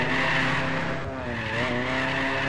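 Tires squeal and skid steadily as a car slides through a turn in the open-world driving game Apex Point, played with a steering wheel, with engine drone underneath and no talk.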